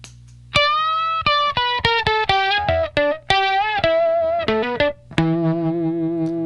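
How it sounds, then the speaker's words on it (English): An electric guitar runs through a Johnny Octave pedal set to the first octave up, playing a quick phrase of bright, doubled single notes close up and ending on a sustained ringing note. "With the first octave turned on the Johnny Octave, it sounds like this."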